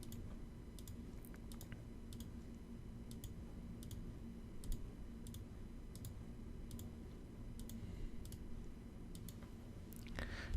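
Mouse clicks in a BPMN editor sound as a series of sharp, faint, evenly scattered ticks over a low steady room hum, with no talking.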